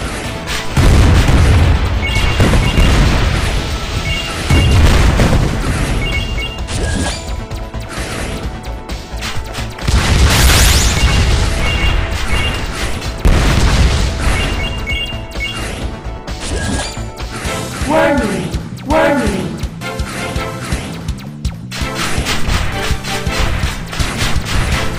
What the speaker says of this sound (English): Electric shock rocket.